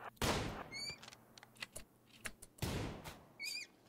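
Gunfire in the Rimworld colony game, two loud sharp bursts of shots separated by scattered smaller clicks and impacts, with brief chirping tones after each burst.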